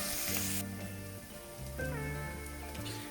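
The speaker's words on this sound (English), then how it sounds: "time to add the onions. Just cook this down until the onions are nicely soft and translucent" Onions sizzle as they cook down in a pan for loaded Bombay potato skins, a steady frying hiss with scraping stir sounds, fairly near and continuous, no voices.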